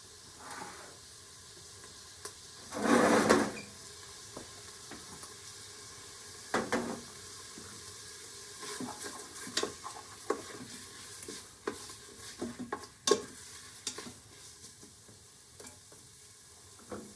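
Ingredients with garlic sizzle in a pot of oil while a creamy tomato soup is being made, a soft steady hiss broken by stirring scrapes and a louder burst of frying near the start. Nobody talks.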